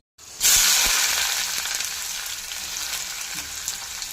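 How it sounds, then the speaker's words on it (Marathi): Onion dropped into hot oil with browned garlic cloves in a pan: a sudden loud sizzle that settles into steady frying hiss, with occasional stirring taps. "कांदा घालायचा आहे"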